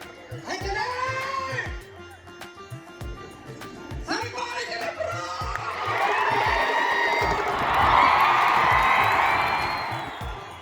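A massive crowd of devotees at the Mailara Karnika festival breaks into loud, swelling cheers and shouts that build toward the end, following an earlier stretch of voices and rhythmic thuds.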